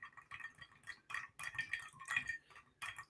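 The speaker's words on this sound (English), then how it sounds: "Clinking ice." Ice cubes clinking against a glass as they are stirred with a finger, a series of small, bright, irregular clinks and taps, close and quiet, with no speech.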